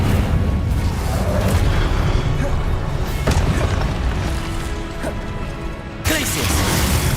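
Incendio fire spell cast in Hogwarts Legacy, a dense, loud burst of crashing and whooshing game effects that runs the full stretch and cuts off sharply near the end before resuming.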